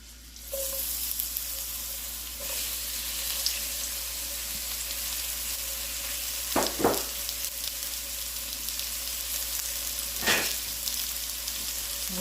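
Onions frying in a cast iron skillet for Southern fried cabbage give a steady, moderate sizzle throughout, with a few brief louder bursts of clatter or stirring, and no talking.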